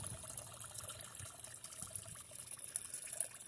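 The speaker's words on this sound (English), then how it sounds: "the waterfall is doing very, very well over here" A backyard pond waterfall splashes and trickles steadily, a continuous faint wash of falling water with no voices.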